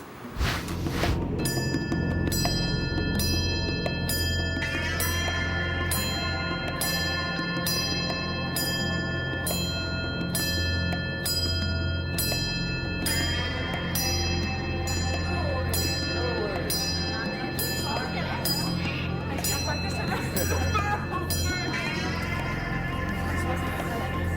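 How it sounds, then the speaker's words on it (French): A bright immunity bell strikes again and again in a quick, regular rhythm on a Quebec reality TV show, ringing clearly over a busy background of murmuring voices. "Voici la cloche de l'immunité."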